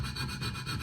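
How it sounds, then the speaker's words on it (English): A file rasps against the metal tongue of an antique jaw harp in quick, rhythmic back-and-forth strokes, fairly soft and close with no voices. "I'm going to file on one side, file on the other."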